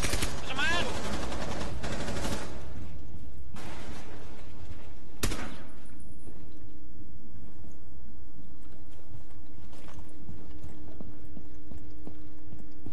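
Gunfire in a ranked Rainbow Six Siege match on the Velvet Shell map: a few sharp, loud shots and short bursts in the first five seconds, then a quieter stretch with low background hum and faint scattered noises.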